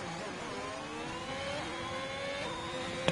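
Racing car engine in a video game revving and climbing through the gears, whining pitch sweeping upward in short steps, moderately loud with no talk.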